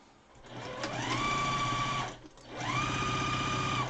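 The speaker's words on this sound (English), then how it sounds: "Just sew it down." A sewing machine stitches down a fabric face mask in two steady, close runs, whirring up to speed, holding a constant buzzing drone, pausing briefly, then running again.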